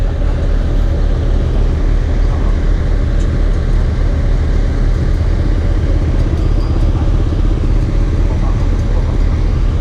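A large excavator's diesel engine runs steadily close by, a continuous low rumbling drone that holds even and loud throughout, with no talk over it.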